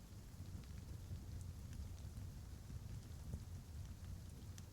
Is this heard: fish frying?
no